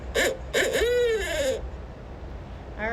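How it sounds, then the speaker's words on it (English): A barred owl calling, a series of loud, close hooting and wavering descending cries, followed by a pause and another call starting. "Oh my gosh, it's a barred owl."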